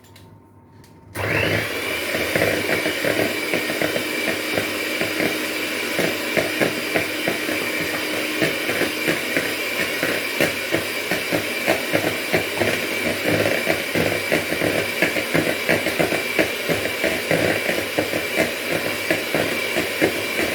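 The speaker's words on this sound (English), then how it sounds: "I like using an electric whisk." An electric hand whisk beating a quiche mixture of asparagus and pepper starts abruptly and runs loud and steady, a continuous whirring motor with a fine rattling texture throughout, no voices over it.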